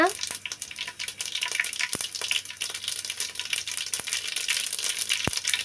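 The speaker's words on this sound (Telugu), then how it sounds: "ఒక స్పూను ఆవాలు, ఒక స్పూను జీలకర్ర ఇవి వేగిన తర్వాత" Mustard seeds and cumin seeds frying in hot oil for a mutton and cucumber curry, a steady close crackling sizzle with scattered sharp pops throughout.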